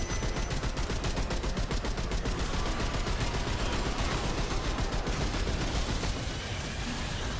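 Rapid, continuous long-range gunfire in the video game Remnant 2, a dense stream of sharp shots with no pauses, loud throughout and easing slightly near the end.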